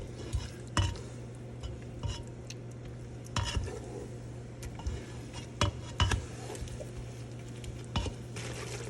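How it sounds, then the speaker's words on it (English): A spoon stirs tomato paste into rice ingredients in a cooking pot, irregular scraping knocks and clinks against the metal over a soft sizzle and low steady hum, close and fairly quiet. "we want to stir it just for a little bit so everything can cook together"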